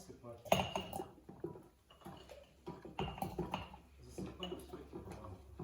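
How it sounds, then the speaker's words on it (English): Metal spoon clinks and scrapes against a glass jar and dishes in a kitchen as apricots are scooped in, with irregular knocks and scoops under faint background murmur. "Take a kitchen spoon, dip it into the boiling water and pour apricots in the jar."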